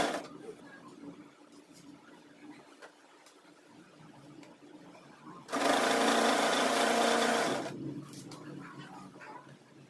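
An electric sewing machine runs in one loud, steady burst of about two seconds while stitching a girls' school uniform skirt, framed by quieter room noise and a speaking voice.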